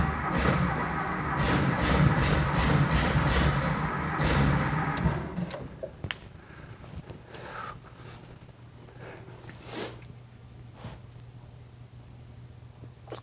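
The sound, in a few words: 1973 VW Thing engine trying to start and run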